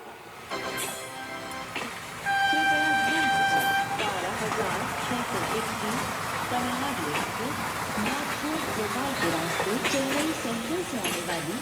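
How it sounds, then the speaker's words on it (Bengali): A train pulls into New Delhi station, sustained horn tones sounding near the start over steady rumbling rail noise, with people talking throughout. "ট্রেন এইবার নিউ দিল্লি স্টেশনে ঢুকছে"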